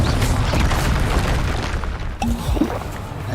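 A Confringo fire-blast spell bursts in Hogwarts Legacy, making a heavy, rumbling boom that rolls on under steady game noise, with a few small crackles and pops near the end.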